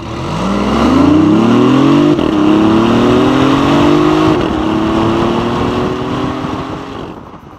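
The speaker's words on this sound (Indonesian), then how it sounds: "sekarang adalah suara yang didengar oleh orang dari luar ketika Anda berakselerasi dengan mobil" A 2017 BMW i8 accelerates as heard from outside the car, its engine note climbing steadily in pitch for several seconds, loud and close, before easing off and fading at the end.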